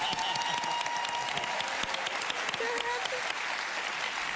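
A television show audience applauds an adoptive couple as they come on stage, a loud, dense and sustained ovation with a few voices calling out through it.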